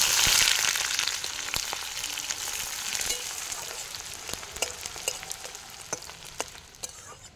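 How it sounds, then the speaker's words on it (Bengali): Chopped onion drops into hot spiced oil with cumin, flaring into a loud hiss that slowly settles into steady frying sizzle, broken by occasional stirring scrapes and clicks; no voices. "এবার আমি দিয়ে দেবো পেঁয়াজ কুচি।"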